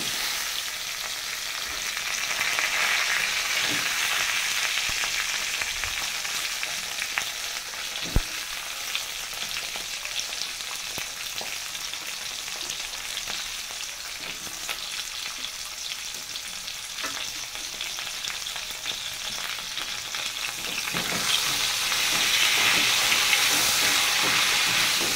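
Potatoes and flat beans frying in a pan give a continuous loud sizzle and hiss, with occasional stirring clicks and the frying swelling louder near the end, no talking.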